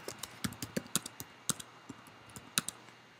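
Computer keyboard typing up close, a quiet, irregular run of sharp key clicks and taps with short pauses between bursts, no voice.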